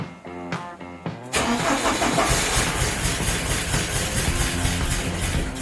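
A 1987 Porsche 944 cranks with a few uneven starter churns before the engine catches and settles into a rough, loud, steady running rumble close by.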